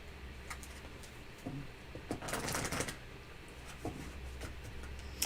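Tarot cards being shuffled at close range, a run of crisp riffling flutters and soft taps that swell in the middle, with no talk.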